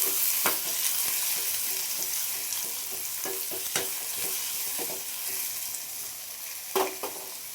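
Onion, tomato and green chili frying in a pan for Karnataka-style toor dal, a steady close sizzle broken by scattered clinks and scrapes of a spoon stirring, with no voices.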